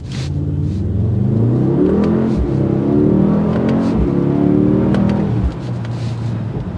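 A 2024 Mercedes-AMG GLS 63 SUV accelerating hard from a stop, its engine rumbling loud and close, the note climbing in pitch through several rising sweeps before settling back.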